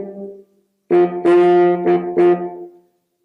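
Baritone saxophone playing the first two measures of a syncopated rhythm: a low held note, a gap, then four accented notes in an uneven pattern, close and solo.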